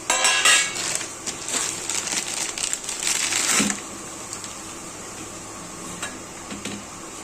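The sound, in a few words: grating jaggery with a hand grater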